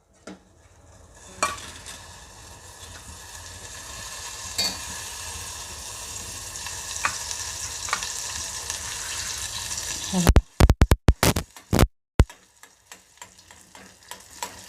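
Butter heated in a pan on a gas stove to make ghee, with a steady, gently rising sizzle and bubbling for about ten seconds, followed by a few loud, abrupt clattering bursts at the end.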